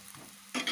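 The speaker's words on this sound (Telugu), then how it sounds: "ఒక్క 2 నిమిషాల్లో ఇది కూడా ఫ్రై అయిపోతుంది." Bajji fritters frying in oil make a soft, quiet sizzle that swells suddenly into a brighter, louder crackle partway through the brief moment.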